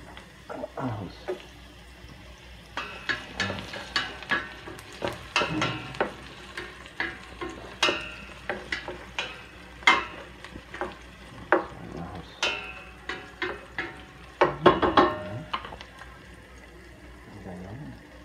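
Garlic frying in a pan for chicken adobo, with repeated spatula scrapes and clacks against the pan over a soft crackling sizzle, heard close and in irregular bursts.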